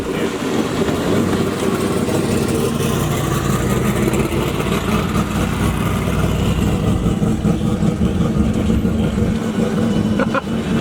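Several go-kart engines run on a reopened, formerly abandoned track while a father and son drive laps. A loud, steady, close engine drone continues throughout with no break.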